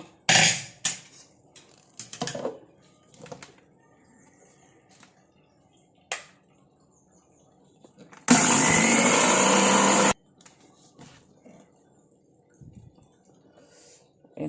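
A mixer grinder jar whirs through cooled roasted ingredients for a homemade hair dye, grinding them to powder. It makes one loud, steady burst of about two seconds, set among quiet clicks and handling knocks.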